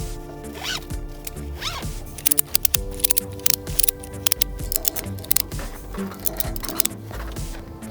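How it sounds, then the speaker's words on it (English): A strap on a Black Widow AMC-400L motorcycle carrier, holding a Super73 Z1, is fed through a ratchet. It makes quick, close zipping and rasping bursts in the middle of the stretch, with some handling rustle before and after. "Now we'll take this ratchet, run it through."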